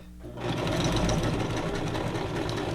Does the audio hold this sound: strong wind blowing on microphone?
no